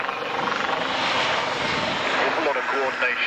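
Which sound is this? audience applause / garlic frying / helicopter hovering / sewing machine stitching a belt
helicopter hovering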